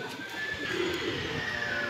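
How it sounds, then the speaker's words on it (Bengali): A chhati pigeon coos softly and steadily nearby, a low continuous murmur over a quiet outdoor background. "এই হচ্ছে ছাতি কবুতর"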